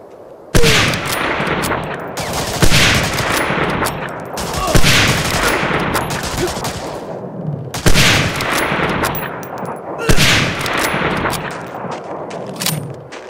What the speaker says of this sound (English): When I open fire, give me sniper cover.